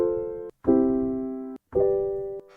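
Sustained chords played on a keyboard or synth in a 6-4-1-5 progression, four chords each held about a second with short gaps between, clear and moderately quiet with no talking.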